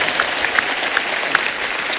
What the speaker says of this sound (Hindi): एक बार जोरदार तालियों से स्वागत कीजिए नए टैलेंट का